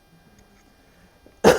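One short, harsh cough breaks in abruptly at the end, close and loud, after near-silence.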